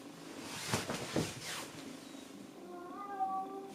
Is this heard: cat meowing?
yes